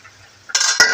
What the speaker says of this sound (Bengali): এখন নাড়বো।